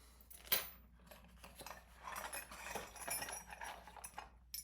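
Keys and small metal fittings for an Amazon Basics keypad deadbolt are handled and dumped together, making close, quiet metallic clinks and jingles that come in irregular bursts.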